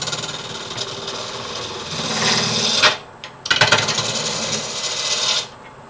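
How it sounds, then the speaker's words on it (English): Wood lathe cutting with a skew chisel or spindle roughing gouge: a steady scraping, rasping whir in two bursts of a few seconds each, separated by a short pause, with quieter motor hum between them. "If you want to do a peeling cut, start with the handle low, raise the handle till it just starts to cut."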